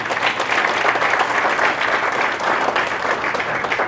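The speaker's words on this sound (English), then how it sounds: "A round of applause for Mr. Willie Long" Audience applause for a school employee honored with the Russell County Superintendent's Award of Excellence, dense and loud, sustained evenly throughout.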